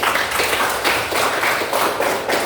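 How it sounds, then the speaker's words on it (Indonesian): Students in a classroom clap together, a brisk, close, continuous burst of hand claps lasting a couple of seconds with no talk over it. "Bagus sekali, tepuk tangan."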